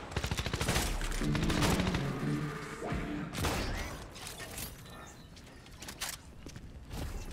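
Bursts of rapid gunfire crackle through a busy game soundscape, with a few sharper isolated shots and mechanical clatter toward the end.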